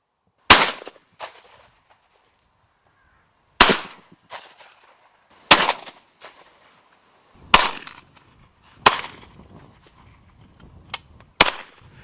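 Shotgun shots at crows in the Irish countryside ring out outdoors, about seven loud, sharp blasts spaced irregularly over several seconds, each trailing a short echo, with no talking.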